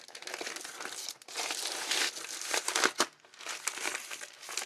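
Dry paper crinkling close by, steady crackling rustle in continuous bursts with a brief pause around the middle, no voices.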